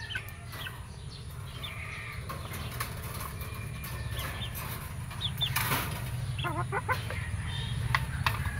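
Farm chickens, including broodstags, cluck and call at close range with scattered squawks over a low, steady background hum, growing slightly busier toward the end.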